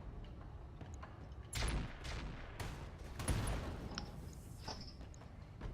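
Weapon fire in the mech game Roguetech: a few bursts of cannon-like gunfire at moderate volume, with the loudest blasts near the middle over a steady mechanical rumble.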